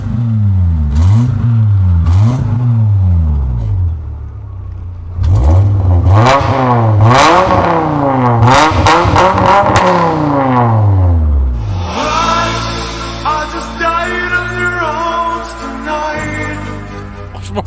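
A Porsche Cayenne R36 five-cylinder engine with a badly fitted manifold gasket revs hard and loud, close by. Its pitch rises and falls in repeated blips before settling into a raspy, sustained higher-rpm drone.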